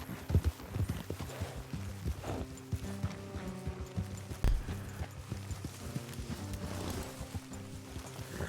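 Horses' hooves clip-clop along a road in Red Dead Redemption 2, an irregular run of soft, fairly quiet hoofbeats from several animals, with faint ambient noise and an occasional snort.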